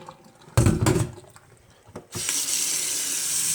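A faucet turns on with a splashy gush into a sink with a clogged drain, pauses, then water runs steadily and loudly down the drain.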